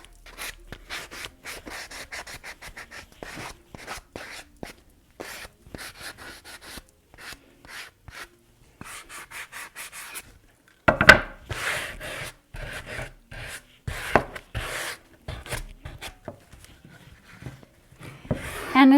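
Sandpaper rubs over waxed, painted furniture to distress it for a chippy finish, with scattered short scratchy strokes, quiet at first, then louder, busier scrubbing toward the end.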